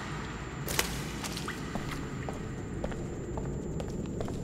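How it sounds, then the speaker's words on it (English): Water drips and splashes in the video game Scanner Sombre, scattered sharp drops landing at irregular intervals over a low, steady wash of running water. "Okay, a lot of water."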